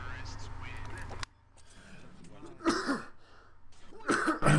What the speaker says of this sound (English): Pardon me, guys, all that coughing.